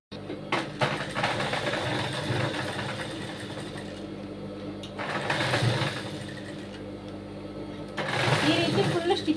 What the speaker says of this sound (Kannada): ನೋಡಿ, ಈ ರೀತಿಯಾಗಿ ಸ್ಟಿಚ್ ಹಾಕೊಂಡಿದ್ದೀನಿ.